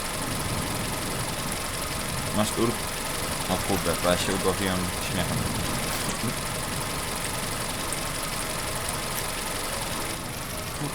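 In the video game Dude Simulator 3, a tractor engine runs with a steady low, knocking drone that continues under excited talking and laughter from a nearby player.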